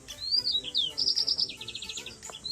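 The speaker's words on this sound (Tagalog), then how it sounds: "Parrot face, red face, parrot finch. Ayan. Ayun, ang gaganda ng tunog nila, no?" Parrot finches in an aviary give high, thin chirps and rapid trilling tweets in quick succession, close and clear, with no voices over them.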